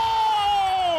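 Esports crowd at the TWT Finals 2018 Tekken tournament cheering and shouting in a loud, sustained roar, with a single whooping voice sliding downward above the noise.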